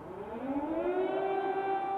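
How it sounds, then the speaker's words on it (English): A wailing air raid siren in Kyiv, Ukraine, sounds continuously, its tone rising and sustaining loudly with steady harmonics, no voices present. "Sirens are now more frequent,"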